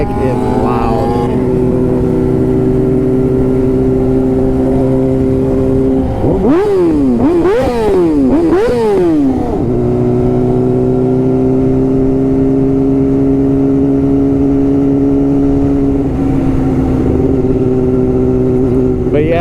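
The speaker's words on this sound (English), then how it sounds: "That bike is loud." A loud sport motorcycle idles on a city street and is revved hard three times in quick succession midway, then settles back into a steady, throbbing idle with a rider talking over it.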